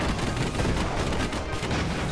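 Steampunk airship guns in the real-time strategy game Airships: Conquer the Skies fire in a dense, continuous barrage of close, loud booms and crackling shots.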